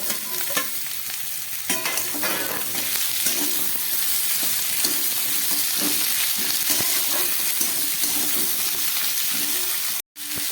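Beans, potato, onion and beetroot fry in a pan with a loud, constant sizzle, while frequent stirring scrapes and clacks sound up close. The sound cuts out briefly near the end.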